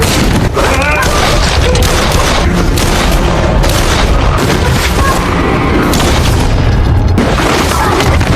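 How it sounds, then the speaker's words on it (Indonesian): Loud booming bursts of gunfire crack repeatedly through a dense, chaotic din, several shots in quick succession. "dia pun dikejutkan dengan adanya suara tembakan dari arah luar"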